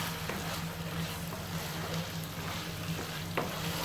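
Chicken gravy being stirred in a pan, a soft steady simmering sizzle with faint scraping strokes, low in level and close by.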